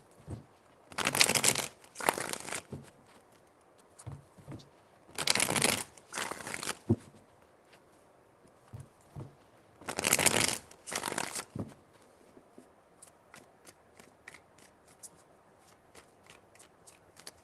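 Tarot cards are shuffled in three bursts of riffling, each a loud crisp flurry of slapping card edges with soft handling rustles between.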